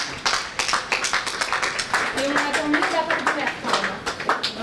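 A crowd claps for a small delegation leaving a building in Montreuil, steady close applause with voices mixed in and speech running over part of it.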